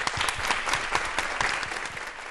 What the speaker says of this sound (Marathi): एकदा त्याच्यासाठी टाळ्या वाजवूया.